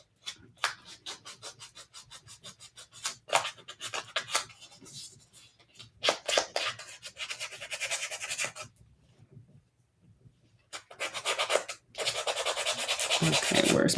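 Small earrings being sanded by hand with sandpaper, close rhythmic scratchy strokes in bursts separated by short pauses, ending in a longer steady rub.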